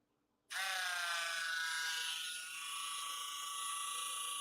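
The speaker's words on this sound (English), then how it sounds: "We'll just be more careful with these and drill them at an angle." A small high-pitched power drill bores holes at an angle into a hobby model, starting abruptly and whining steadily with a thin tonal shriek, dipping slightly midway then holding close and fairly faint.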